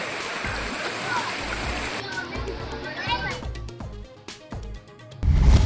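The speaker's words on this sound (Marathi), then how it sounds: "सोलापुरात मुसळधार पावसाचा कहर, रस्त्यांना नद्यांचं स्वरूप" Floodwater rushes through streets in Solapur during a heavy monsoon downpour, with a steady loud churning flow and scattered splashes. Voices are heard over the water.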